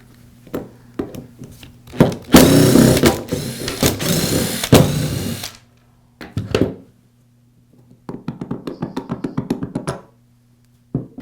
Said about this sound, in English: Now I can remove the spindle assembly by removing the 4 screws that secure it to the housing.